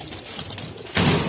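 A flock of around seventy-five pigeons in Jhelum coo close by in a short burst, soft throaty calls over a brief rise of rustling noise.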